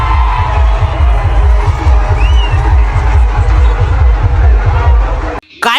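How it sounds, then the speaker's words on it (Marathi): A huge crowd at a bullock cart race roars and cheers, loud continuous shouting and whooping with steady babble, cut off sharply near the end. "काय माणसं, काय गर्दी"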